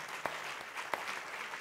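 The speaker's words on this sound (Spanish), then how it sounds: "A todos ellos, un gran aplauso y un gran agradecimiento por posibilitar esta edición." Brief audience applause at the closing and awards ceremony of a film festival in Mar del Plata, steady crowd clapping with a couple of sharper individual claps standing out.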